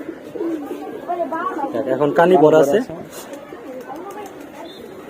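Pigeons at a loft coo softly in the background beneath steady close talk in Bengali, the cooing faint and continuous behind the voice.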